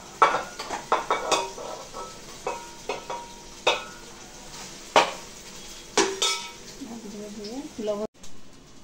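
Rice goes into a pan with capsicum and carrot and is stirred, giving repeated sharp metal spoon scrapes and clinks against the pan over a faint sizzle, with someone speaking briefly near the end.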